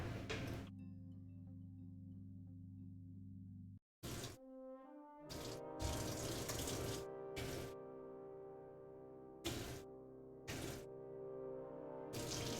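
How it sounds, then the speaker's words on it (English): A kitchen tap runs while hands are washed with warm water and soap at a sink, a steady rushing water sound broken by short bursts and pauses, heard close with no talking. "now I'm gonna wash my hands"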